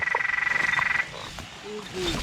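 Banded bullfrogs croak in heavy rain, a close, rapid pulsing trill lasting about a second, followed by softer splashing rain and faint calls in the background.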